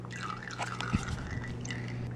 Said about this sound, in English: the espresso machine's not incontinent. We're just doing a descale.